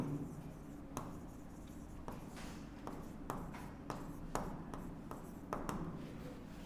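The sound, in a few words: writing on a board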